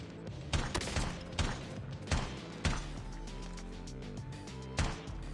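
Sniper rifle shots in COD Mobile Battle Royale ring out as several sharp, separate cracks over a busy, continuous game soundscape.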